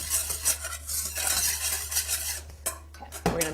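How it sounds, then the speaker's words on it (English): A whisk clinks and scrapes quickly inside a pan as a pudding mixture with cornstarch is stirred together. The metallic strokes are close and in a busy rhythm, over a low steady hum. "So we're just going to whisk this all together really quickly in the same pan that we're going to make the pudding."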